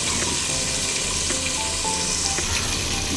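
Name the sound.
onions frying with mint and coriander for biryani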